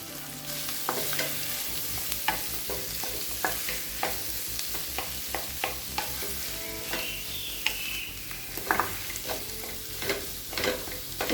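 Boiled potatoes being stirred into a sizzling onion masala in a pan while making Mysore masala dosa filling, with repeated scraping stirs over steady frying hiss and no voices.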